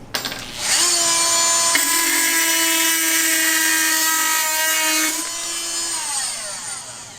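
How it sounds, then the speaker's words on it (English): A Dremel MM50 Multi-Max oscillating tool cuts, a loud, close, high-pitched buzzing whine that rises as the blade bites in, holds steady for several seconds, then eases off. "the Dremel really plowed through there"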